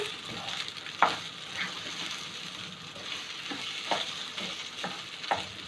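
Rice for vermicelli rice is stirred in a pot as a Maggi stock cube melts into it, with a soft steady sizzle broken by a few sharp spoon scrapes against the pot.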